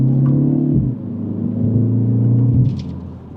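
A 2026 Mini Cooper JCW in Chili Red pulls away in JCW mode from second gear, its engine a steady low rumble that eases briefly, then swells again in a mild acceleration heard from inside the cabin.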